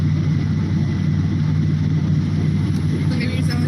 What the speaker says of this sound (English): Can you hear the engine rev?